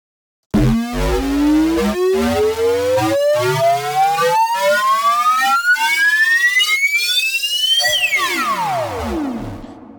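A bright synth riser climbs steadily in pitch for about seven seconds, pulsing in a regular LFO wobble, then sweeps back down and fades out.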